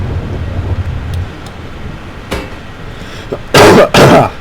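Two loud, harsh coughs close to the microphone near the end, after a quieter stretch with a couple of faint clicks and a softer cough-like burst.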